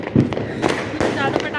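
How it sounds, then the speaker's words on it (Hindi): Diwali firecrackers burst repeatedly in the distance during a festive night, several sharp pops and crackles scattered over a steady background hum, with faint voices in the mix. "इस साल इतनी भयंकर आवाज़ आ रही है ना पटाखों की"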